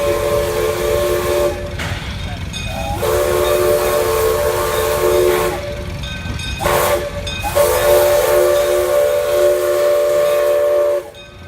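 A Buckley Railroad 0-4-0T steam locomotive hauling a passenger train rumbles past with a loud, sustained whistle that sounds in long blasts, broken by brief pauses, close and powerful.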